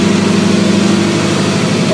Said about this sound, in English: This sounds like a Lambo, but it's just an old car with an old engine.